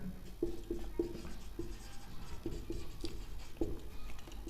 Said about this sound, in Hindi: तो मैं लिख देता हूँ जो मैंने बोला है, ठीक है, इसकी डेफिनेशन लिख देता हूँ